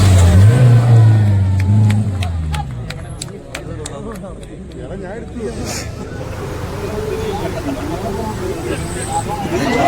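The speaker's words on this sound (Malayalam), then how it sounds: "ഈ വരുന്ന പജീറ വണ്ടി വളരെ നല്ല രീതിയിൽ ഓടിച്ചു വന്നൊരു വണ്ടിയായിരുന്നു കേട്ടോ" Pajero off-road vehicle in a mud race, its engine revving loud and close at first then receding, with a crowd chattering and shouting around it and a brief rattle of clicks midway.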